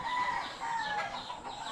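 Chickens cluck and call nearby, a few overlapping bird voices rising and falling against a faint outdoor background.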